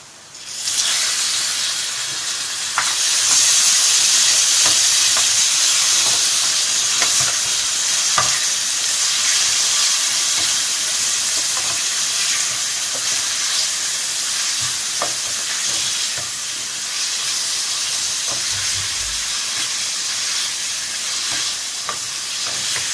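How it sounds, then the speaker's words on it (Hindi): Chicken frying in ghee with softened onions in a pan, a steady loud sizzle and hiss running throughout with occasional faint stirring clicks. "तकरीबन 2 मिनट बस हमें इसे घी के अंदर फ्राई करना है।"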